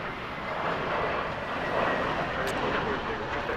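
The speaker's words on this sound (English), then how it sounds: "running 25 right at Foxtrot, clear for takeoff." A jet airliner taking off from runway 25 right at Los Angeles International Airport, heard as a steady, dense, broadband roar that swells slightly midway and holds throughout.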